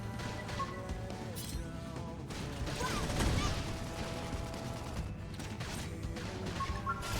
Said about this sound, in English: topple them with some gunfire